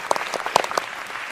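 A studio audience on a Vietnamese matchmaking game show applauds in congratulation, a short, lively patter of many hands with a few sharper claps standing out.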